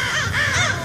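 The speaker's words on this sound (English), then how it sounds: "It was a call for crows nearby to assemble." Crows cawing close by, a few harsh, raspy calls overlapping in quick succession against a steady outdoor background.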